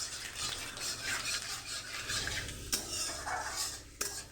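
Panch phoron tempering with fried chilies is stirred in a pan, with scraping and clinking of a metal utensil against the pan over a soft sizzle and two sharp knocks.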